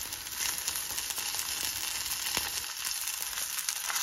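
Small morel mushrooms sizzle and crackle steadily in a hot pan, a bright, dense frying hiss with occasional pops, close and uninterrupted.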